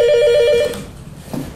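A telephone rings loudly in a short electronic burst, with steady tonal pulses for the first half second before it cuts off, leaving a brief quiet tail of background noise.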